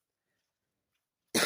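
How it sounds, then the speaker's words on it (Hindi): A person coughs once, sharply and close by, from chaff dust in a village setting, the burst arriving suddenly after near silence. "अभी भी देख सकते हैं कि मुझे उसकी वजह से खांसी भी आ रही है।"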